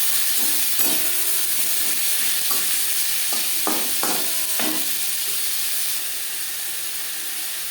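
Onion and tomato go into a wok of hot oil, already used for frying fish, and fry with a constant loud hiss and sizzle, punctuated by several sharp scrapes of a stirring utensil.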